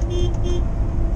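A car horn sounds in a steady, continuous blare on a street, loud and close, with road and traffic noise underneath.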